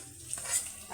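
Chopped garlic and ginger frying in a pan for a pasta soup, a soft steady sizzle with a faint stirring clatter, close and fairly quiet for under a second.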